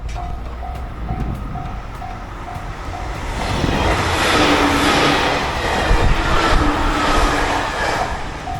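Inside a moving train in Fukuoka, a steady rumbling roll with faint clicking fills the cabin, growing louder and rougher midway, while a repeating electronic tone sounds in the background.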